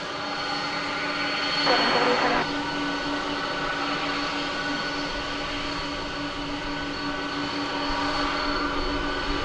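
A 1991-built airplane at Dallas Fort Worth Airport produces a steady, distant engine drone and rumble that stays fairly even, with a brief burst of louder noise early on.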